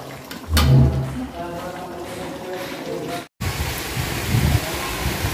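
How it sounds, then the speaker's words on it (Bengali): Heavy rain pours down during rainy-day outdoor cooking, a loud steady wash of noise with a brief thump near the start and a short dropout midway before the downpour resumes. "আর দেখেন এদিক দিয়ে জুম বৃষ্টি নামছে।"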